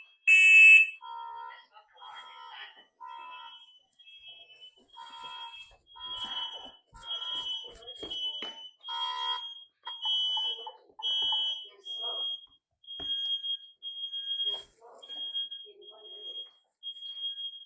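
Smoke alarms shriek in a kitchen while leftover paella is being cooked, a steady high-pitched beeping that repeats in regular pulses for the whole stretch, with people talking over it.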